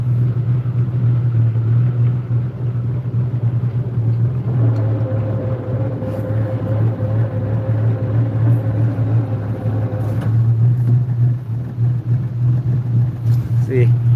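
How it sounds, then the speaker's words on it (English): A Chris Craft boat engine idles with a deep, steady low rumble after its pump has been primed, and someone talks over the engine noise for much of the time. "There we go. We got her going now. You had to prime that pump a little bit."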